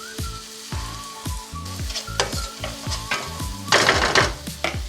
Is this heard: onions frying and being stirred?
yes